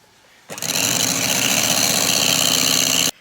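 Electric mixer beating egg yolks for tiramisu starts abruptly and runs as a loud, steady high-pitched whir for nearly three seconds, then cuts off, with no talking.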